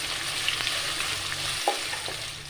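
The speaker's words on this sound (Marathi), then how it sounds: "हा कांदा सोनेरी होईपर्यंत चांगला खरपूस परतून घ्यायचा आहे" Two medium chopped onions frying in a pan toward golden brown for a chicken curry, a steady close sizzle with a few light stirring knocks, no talking.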